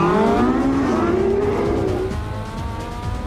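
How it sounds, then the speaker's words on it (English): A Porsche accelerates hard off the line at a race start in Portugal, its engine note climbing steadily through the gears, loud and close, with the pitch rising and then settling as it pulls away. "Porsche has gone off to a flyer."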